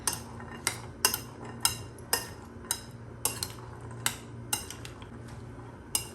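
A spoon mixes salted boiled chickpeas with onion in a bowl, clinking against the sides in a steady rhythm of sharp taps about twice a second, close and clear with no talk.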